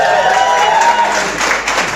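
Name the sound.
audience applause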